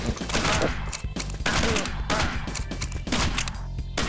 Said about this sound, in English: that was a very fast shot there